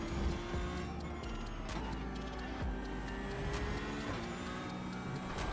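Tires squealing on a Porsche Cup car in the iRacing simulator, a steady high screech over droning engine noise, broken by a few sharp clicks and thumps, with no talk.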